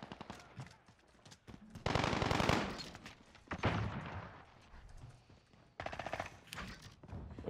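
Rapid automatic fire from the player's SMG in Call of Duty: Modern Warfare, close and punchy in several short bursts separated by quieter gaps.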